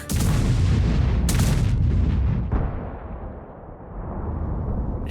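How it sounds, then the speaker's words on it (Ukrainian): A PZT-70 heavy tank fires its 180 mm gun in the World of Tanks video game. One loud, deep boom is followed by sharp cracks and a long rumbling tail that fades slowly. "ПЗТ-70 це сталеве втілення слова міць. Його 180-мм молот гримить так."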